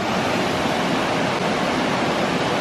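Laughing Whitefish Falls, a 100-foot waterfall, roars in a steady, dense broadband wash of falling water, loud and unbroken throughout with no voices.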